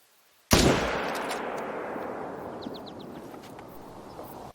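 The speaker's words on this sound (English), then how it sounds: "Took a shot at him with the 300." A .300 rifle fires at a male Roosevelt elk in a hunting video game set in Layton Lake District, producing one sharp, loud, close shot that rolls away in a long fading echo across open terrain.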